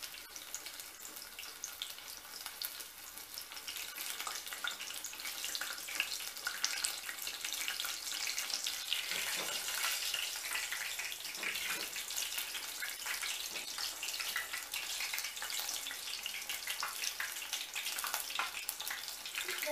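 Breaded chicken fries in a pan of oil with a steady, hissing sizzle that stays close and even, rising a little now and then, with no one talking.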